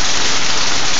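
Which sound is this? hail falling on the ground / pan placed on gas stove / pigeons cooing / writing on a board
hail falling on the ground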